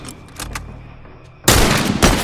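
A sniper rifle shot in The Last of Us multiplayer cracks out as one loud, sudden blast that rolls into a heavy echoing tail, following a quieter stretch of faint game ambience and distant pops.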